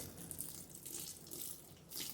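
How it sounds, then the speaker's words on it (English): Water with its pH adjusted is poured slowly in a circular pattern onto cocoa coir growing medium in a small grow bucket, a faint, continuous splashing trickle with no speech. "Now I'm gonna put this regular water in with the pH so that the medium, the cocoa coir, is at the perfect pH."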